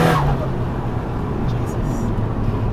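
A 450 hp Nissan S15 Silvia with a big-turbo SR20 four-cylinder drones loudly and steadily on a touge mountain road, holding a dense, continuous engine roar from start to finish with no clear gaps.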